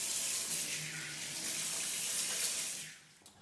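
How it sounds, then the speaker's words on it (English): Water running steadily from a kitchen tap during handwashing, a close hissing stream that carries on for a few seconds and then tapers off. "we always start with washing our hands"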